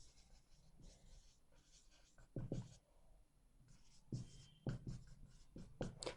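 Chalk or marker writing on a classroom board in an English grammar lesson: irregular scratchy strokes and taps in short clusters, fairly close, with quiet gaps between bursts and no speech.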